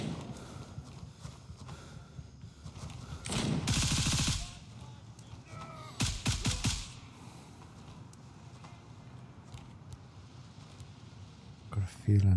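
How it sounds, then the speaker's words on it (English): Gunfire from AI enemies in the military shooter Gray Zone Warfare, heard as two loud bursts of rapid shots over steady outdoor ambience, followed by a few fainter distant pops. "Got a feeling it's AI that was shooting at us."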